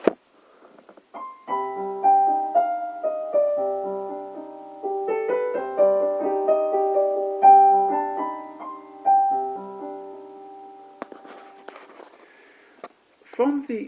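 A piano improvises a right-hand melody over the C melodic minor scale against held chords, solo and close, with phrases rising and falling in an unhurried rhythm.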